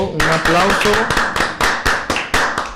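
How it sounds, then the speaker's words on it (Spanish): A small group claps at an interview, a run of roughly ten sharp, separate hand claps at an uneven, quickening pace, close and distinct, with a voice briefly heard at the start. "un aplauso"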